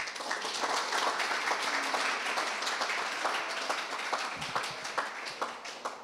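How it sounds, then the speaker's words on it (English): Audience applause for tennis players at a championship prize-giving night, a moderate round of many hands clapping that swells early and gradually tapers off. "please join me in giving a large round of applause to this fantastic group of sportsmen and sportswomen"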